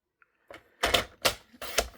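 Designer paper for a handmade card being cut with a paper trimmer, heard as three close, loud sliding swipes in quick succession after a faint tap, with no voices.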